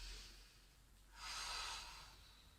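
A single long, deep breath is heard in a quiet children's yoga exercise. It builds softly, peaks as a breathy exhale, then fades, close and faint.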